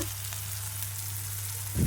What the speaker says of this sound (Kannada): ಒಲೆಯ ಮೇಲೆ ಪಾತ್ರೆ ಇಟ್ಟು ಬಿಸಿ ಆದ ನಂತರ ಎಣ್ಣೆ ಹಾಕಿ ಉಳ್ಳಾಗಡ್ಡೆ ಟೊಮೆಟೊ ಕೊಚ್ಚಾಕಿ ಬಾಡಿಸ್ಕೊಂಡು